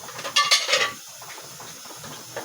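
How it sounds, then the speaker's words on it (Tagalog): Plates and cutlery clinking together while washing dishes at home, a few sharp clatters up front followed by quieter scraping and light handling sounds. "Maghugas tayo ng plato mga kaibigan kasi hindi ito nahugasan kagabi."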